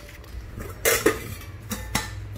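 A thick stainless steel pot and its lid, 18.5 cm across, are handled, giving several sharp metallic clinks and taps against a quiet room, close and clear without talk.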